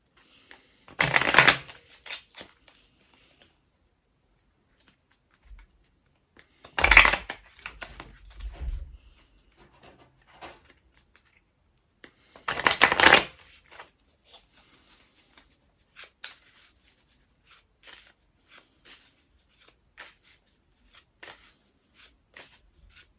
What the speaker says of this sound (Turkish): Onları da hemen karalım.